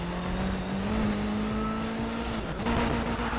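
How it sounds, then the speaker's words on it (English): A car engine in a video game revs steadily with a constant droning tone, shifting pitch near the end, loud and continuous with no voices. "Oh, this car sounds nice."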